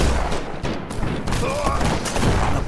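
Gunfire in the video game Killer Bean, a quick burst of shots and thuds mixed with music, loud and busy over a short moment.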